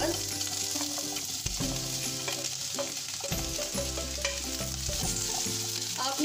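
Capsicum and onion sautéing in an oiled pan on high flame for chicken jalfrezi, a steady loud sizzle with occasional stirring knocks, set against a sustained musical background.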